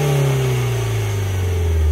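A Mini Cooper R56 John Cooper Works race car engine, warmed up, revs and holds a loud, steady drone whose pitch sags slightly toward the end, with nothing else audible.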